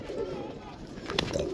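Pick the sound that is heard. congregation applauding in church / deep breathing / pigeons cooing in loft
pigeons cooing in loft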